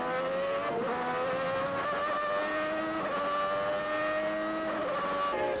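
Onboard from a 1990 Larrousse Formula 1 car as two Lotus cars try to pass, a loud, steady high-pitched engine scream with shifting harmonic tones of nearby cars, continuous throughout with no talk.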